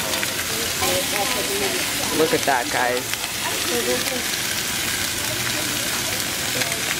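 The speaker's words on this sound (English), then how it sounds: "we're going to sear it on one side for about 3 minutes straight" A ribeye steak sears in a hot pan, giving a steady, broad sizzle that runs the whole time beneath a voice talking.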